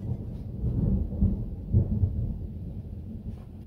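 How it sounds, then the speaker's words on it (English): Low rolling thunder rumbling for several seconds with a few swelling peaks, distant and heavy, with no voices. "You hear that thunder?"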